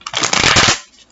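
Brief, close riffle of a tarot deck being shuffled, one quick papery flutter of cards lasting under a second, loud and alone.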